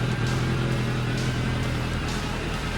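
Motorcycle engine revving steadily after its carburettors have been balanced, a loud, sustained mid-pitched drone with a few throttle blips, close and continuous with no talk.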